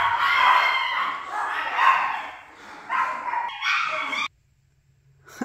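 Several dogs bark at home at night in a burst of loud, close, overlapping barks lasting about four seconds, then stopping abruptly into quiet.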